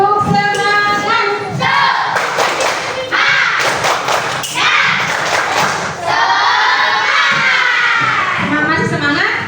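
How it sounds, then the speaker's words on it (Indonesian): A class of children doing a rhythmic spirit clap, loud patterned bursts of clapping and thumps mixed with chanting and shouting voices, close and energetic throughout. "Coba tepuk semangat."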